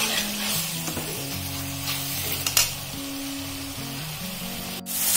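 Pumpkin stirred and mashed in a pan for a sweet-and-sour kumda sabzi, a steady soft sizzle under scraping spoon strokes, with a sustained tonal hum running beneath throughout.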